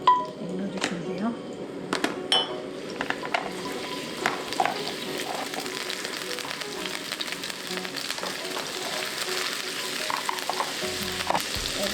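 Garlic and ginger sizzle steadily in hot cooking oil for stir-fried squid, a continuous close frying hiss with occasional clinks of a utensil and a voice talking over it.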